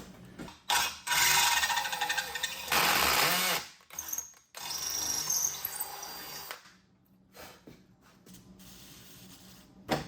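A power drill whirs in loud bursts working on the front end of a 1994 Mazda Miata NA, spinning up and cutting off several times, with clattering handling noises between runs.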